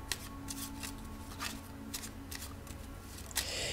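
Tarot cards shuffled for a reading, a run of crisp riffling bursts repeating at an even pace, close and fairly quiet, with no talk.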